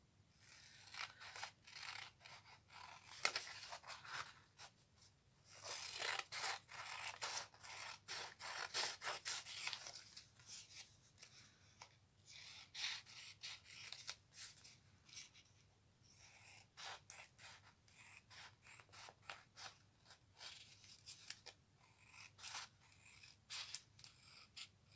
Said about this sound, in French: je découpe l'excédent